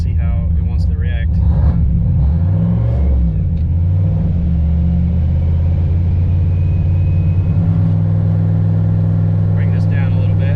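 Turbocharged car engine with a Holley Terminator X setup held at steady RPM on a dyno, a loud continuous drone with rising and falling harmonics, under people talking.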